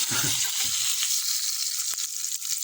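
Sausages fry in a pan with a constant bright sizzle and crackle, close and fairly loud, with a few low stirring knocks near the start and no talk.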